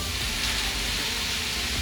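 Meat frying in a hot pan for a Philly cheesesteak, giving a steady, dense sizzle that fills the clip without pause, close and moderately loud, with no talking.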